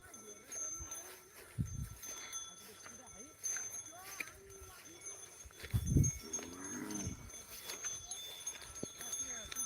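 Farm cattle on a rainy morning give two low, drawn-out moos several seconds apart, heard at moderate distance over soft background noise and occasional voices.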